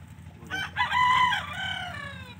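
A rooster on a Punjab village farm crows once, loud and close, its drawn-out call rising and holding before trailing off over a low rumbling background.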